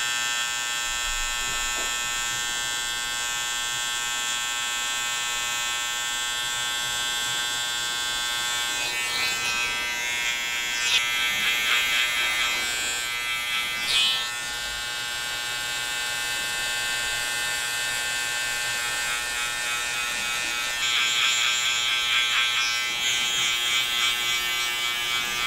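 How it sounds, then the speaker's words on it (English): An electric shaver buzzes steadily and close up, its hum rising and roughening as it cuts through hair in several passes. "And then going down with my shaver as well now."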